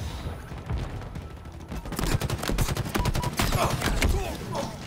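Rapid bursts of gunfire from a chain gun in the video game Halo Infinite, dense repeated shots and clattering mechanical hits building in loudness and then holding steady, with no talking.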